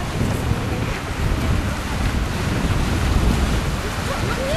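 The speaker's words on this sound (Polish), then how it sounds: "Morze Północne." North Sea waves wash against the shore at Margate under gusting wind, a loud, continuous roar with buffeting wind noise on the microphone and no pauses.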